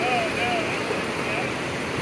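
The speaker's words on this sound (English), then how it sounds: "So this is the main spring where all of the water is coming out here." The main spring of a Missouri Ozarks karst system gushes water from the ground in a steady broad rush, with a faint tonal whine above it and no clear talk.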